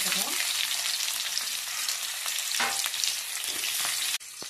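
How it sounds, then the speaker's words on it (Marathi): Onion hits hot oil with cumin tempering in a pan on a village wood-fired stove, giving a loud, steady hiss and crackle throughout with occasional stirring scrapes, then the sizzle briefly drops near the end. "आता कांदा टाकत आहो."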